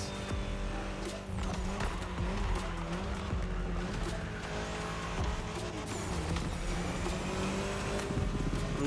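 Race cars roar along in The Crew Motorfest, a dense, continuous engine drone with shifting pitch and occasional tire squeal, loud and steady throughout.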